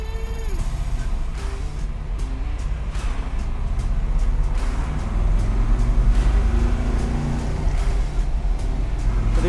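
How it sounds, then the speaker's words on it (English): A 1963 split-window Corvette idles steadily with a solid lifter cam, its low engine rumble carrying a fast, sharp valve-train ticking, close and continuous with slight revs partway through. "I can tell you it has a solid lifter cam in it. I can hear by the valve train sound."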